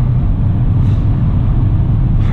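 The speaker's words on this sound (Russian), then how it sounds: "Выбрали третью, выбираем место и в пол жмем" A Lada Xray with an AMT gearbox pulls hard in third gear to overtake, a steady loud low engine drone and road rumble holding throughout without a break.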